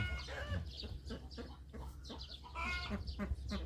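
Several farm chickens cluck and squawk close by in quick, overlapping bursts over a low background hum.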